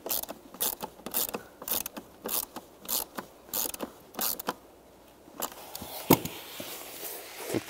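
A hand ratchet snugs screws into a plastic panel on a 2002-2009 Chevy Trailblazer, giving repeated short bursts of clicking pawl sounds in an uneven rhythm, close and fairly quiet, with no talk.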